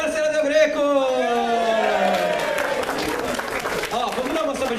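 An audience at a talk for a Fullmetal Alchemist launch gives a sustained round of clapping and crowd noise, steady throughout, while a voice speaks over it.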